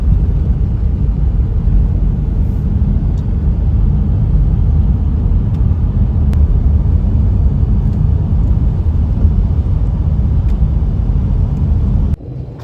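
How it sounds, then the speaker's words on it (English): A motorhome driving on the road, heard from inside as a continuous low engine and road rumble at steady volume, close and loud, easing off only in the final moment. "we thought we'd go out for a drive in our motorhome and fill it up with fuel"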